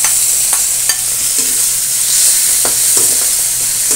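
Tuna (tambakol) innards stir-frying with chili in a pan, a constant close sizzle broken by repeated scraping strokes of a spatula, no voices.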